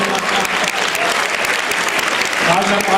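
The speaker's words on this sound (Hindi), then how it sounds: "एक बार इन बच्चों के लिए तालियां बजा दे" Dense, steady applause from an audience cheering for children at a Hindi-language event, a thick wash of many hands clapping at once that holds loud and unbroken for the whole stretch.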